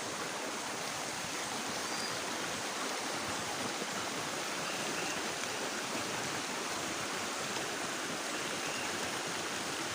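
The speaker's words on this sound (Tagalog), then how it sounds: "nandito ako sa misteryosong ilog" A river stream flows steadily through a quiet natural spot lined with very tall bamboo, a continuous broadband wash of running water, close and unbroken, with no voices.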